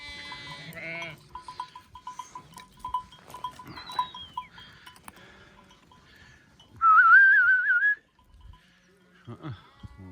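A large flock of sheep and goats grazes in an open field, with several bleats scattered through the clip, a loud sustained whistle near the end, and faint talk in between.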